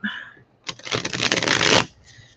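Tarot cards are shuffled once in a quick riffle lasting about a second, a dense close papery flutter, with a brief bit of voice just before it.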